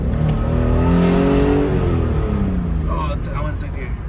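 Engine of an MK3 Toyota Supra revving and pulling hard while being driven, a loud droning roar that climbs and then falls in pitch, heard from inside the car with voices talking over it.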